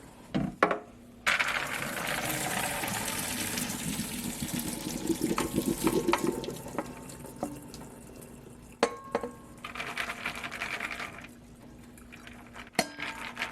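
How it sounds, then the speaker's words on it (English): Water from boiled pumpkin seeds drains out of a pot into a kitchen sink, a steady pouring rush lasting several seconds, with metallic clanks of the pot and sink between the flows. "after these have boiled for about 5 minutes, I'm going to drain off the water."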